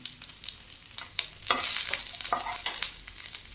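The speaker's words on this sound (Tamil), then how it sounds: "நல்லா வதக்கிக்கலாம்" Coconut slices and curry leaves sautéing in hot oil, a close, crackling fry that swells midway, with a few scraping stirs of a spatula and no voices.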